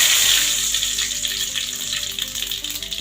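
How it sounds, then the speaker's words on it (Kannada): Mustard seeds and curry leaves sizzle in hot oil, a bright crackling hiss that starts strong and settles a little, with small pops scattered through it, close and without any talk. "1 ಟೇಬಲ್ ಸ್ಪೂನಷ್ಟು ಸಾಸಿವೆನ ಹಾಕ್ತಾಯಿದ್ದೀನಿ"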